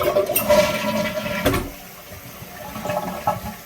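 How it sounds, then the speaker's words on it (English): A new Mansfield Summit toilet with a water-saving flapper does a press-and-release flush nearby, a short rush of water that quickly fades into a weak trickle and refill gurgles. "That was a press and release flush."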